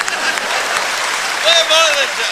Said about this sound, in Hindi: इधर से तालियां कम बज रही हैं, इधर का मामला ठीक है।